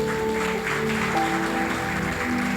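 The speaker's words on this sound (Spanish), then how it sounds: "denle un aplauso al Señor" A church congregation claps briefly while sustained organ or keyboard tones ring underneath, a moderate wash of applause for a couple of seconds.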